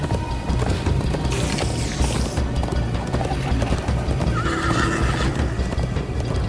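Rapid hoofbeats pound along continuously while a horse lets out a loud, shrill whinny near the start, over a dense, busy game soundscape.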